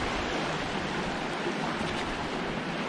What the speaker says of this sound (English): Now it's just like a little river going through it.